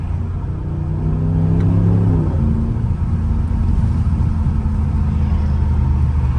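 Deep, steady exhaust rumble from a Ram TRX pickup with a long exhaust and a mid-muffler delete, loud and close, with a brief revving swell early on, then a constant throbbing drone with no voices.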